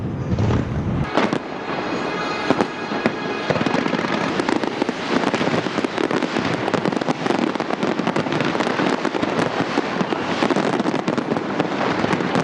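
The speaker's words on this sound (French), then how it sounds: "Des feux d'artifice ont éclaté un peu partout à minuit" New Year fireworks burst at midnight in a dense, continuous barrage of crackles and booms, loud and sustained, with no pauses between the blasts.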